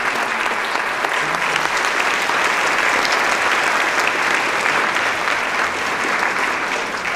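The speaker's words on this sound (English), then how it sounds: "New members, let's give them a round of applause." Sustained applause from an audience at a Phi Theta Kappa induction ceremony, loud and dense throughout with no talking.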